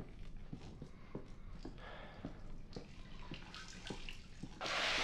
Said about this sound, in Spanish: Una especie de ducha automática.